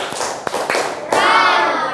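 Children in a fifth-grade classroom clap in a few quick, sharp bursts, the claps fairly close and distinct before a noisier rustling stretch follows.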